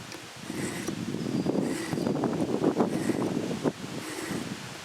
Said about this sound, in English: Sitting outside and the wind's blowing, it feels really nice.